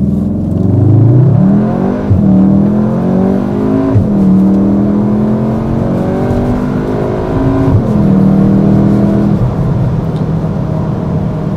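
A Cupra Formentor VZ with a 2.0 TSI 310 hp engine, DSG gearbox and 4Drive accelerates hard from 0 to 100 in Cupra mode. The engine note climbs loudly and steadily, broken by quick gear shifts roughly every two to four seconds.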